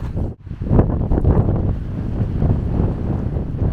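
Loud winter wind in the Carpathian mountains buffeting the microphone, a constant low rumbling roar with gusty swells and no voices.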